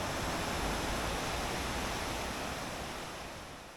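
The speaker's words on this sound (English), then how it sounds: "Here is the waterfall, and it is beautiful." Steady, dense rush of a waterfall in southern British Columbia, a continuous broadband roar with no voices, easing slightly toward the end.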